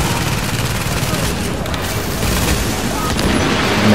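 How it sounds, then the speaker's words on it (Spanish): A grenade blast in the shooter game The Division, a loud boom rolling into dense gunfire-like rumble that fills the whole stretch, with a voice speaking over it. "Tira una granada ahí, eso ahora va a petar."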